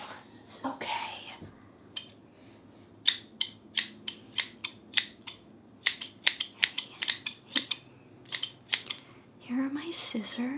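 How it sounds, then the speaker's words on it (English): Sharp scissor snips cutting hair in a relaxing salon-style session, a steady series of crisp close-up clicks and snips in quick irregular rhythm, with soft whispering and rustling at the start and end. "I find the sound of scissors cutting is very relaxing"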